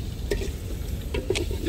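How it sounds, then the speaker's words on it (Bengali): Chaka prawns cooking with cabbage for a morning meal in the Sundarbans: a few soft spatula scrapes and taps against the pan over a quiet, low sizzle. "সকালের রান্না হচ্ছে পাতাকপি দিয়ে চিংড়ি।"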